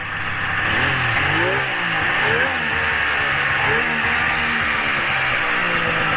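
A 1997 Polaris XC 600 triple snowmobile engine runs with its air box off, loud and close, its two-stroke drone swelling and dipping through several rev blips.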